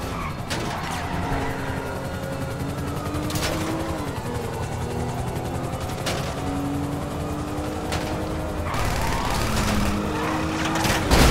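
Police helicopter rotor and pursuing police cars with sirens in GTA V, a steady dense roar of engines and wailing tones with occasional crashes, loud and continuous throughout.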